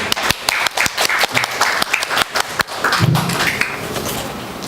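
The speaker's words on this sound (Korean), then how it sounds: "박수로." An audience at a symposium gives a presenter a welcoming round of applause, scattered hand claps at first that thicken into a steady, moderately loud clapping crowd before tapering off.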